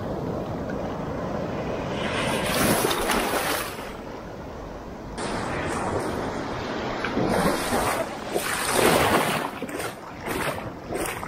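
Strong ocean waves roll and crash at Playa Cocles beach, a Caribbean shoreline with powerful currents, as broad surges of surf swell and break repeatedly, loud and close, with gusts of wind buffeting the microphone.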